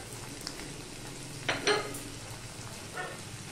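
Spices with turmeric and chilli powder frying in a pan for a Bata fish curry, a quiet steady sizzle broken by a couple of brief scraping stirs, no talking.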